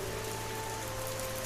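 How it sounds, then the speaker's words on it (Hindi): Sudden torrential rain in a Hindi cartoon story, a steady dense hiss of downpour with a low hum beneath, continuous and fairly loud throughout with no talk. "फिर अचानक मूसलाधार बारिश।"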